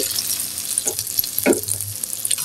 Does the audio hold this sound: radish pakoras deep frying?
yes